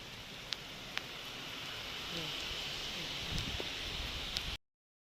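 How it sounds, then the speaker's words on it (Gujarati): Soft, steady rainfall hiss on a terrace with a few scattered drips and taps, fairly quiet, ending abruptly in silence. "બહુ મસ્ત વરસાદ વરસી રહ્યો છે"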